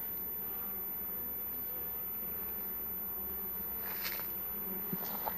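Honey bees buzz steadily at the small entrance of a beehive, a dense continuous drone close by, with a few brief louder passes near the end.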